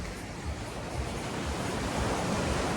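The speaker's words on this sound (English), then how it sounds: "So today the weather is super nice, but we still have some waves." Small ocean waves wash onto Chaweng Noi beach on Koh Samui on a calm, sunny day, a steady broad surf roar with some wind rumble and no voices.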